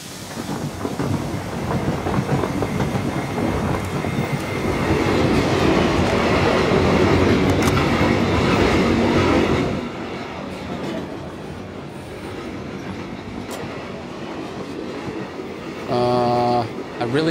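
Train rolling on rails in the PUBG video game on the Vikendi map, a loud, continuous rumble with clickety-clack that drops to a quieter run, with brief game effects near the end.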